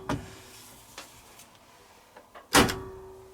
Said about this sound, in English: Obviously electronic door release.